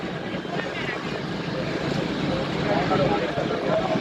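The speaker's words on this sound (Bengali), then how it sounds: "শ্রীরামপুর থেকে লঞ্চ ছাড়লো এগোচ্ছে সামনে" A ferry launch leaving Serampore churns along the river with a steady, broad engine rumble and water rush, wind buffeting the microphone throughout.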